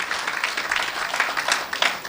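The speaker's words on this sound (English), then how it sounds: "Please give our panelists a round of applause for those answers." An audience at a political party town hall forum in Kingston and St Andrew claps for the panelists, a dense, even wash of many hands at moderate volume with no talking.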